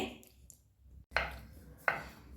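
A knife chops a banana into small pieces on a board, with two or three sharp, close knocks spaced apart, separated by short quiet stretches.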